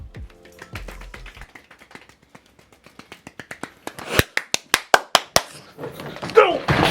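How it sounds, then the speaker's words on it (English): A small group claps in scattered, uneven bursts after an airsoft gun build is roasted. The claps grow louder and sharper toward the end, and a voice is heard faintly at the start. "round of applause."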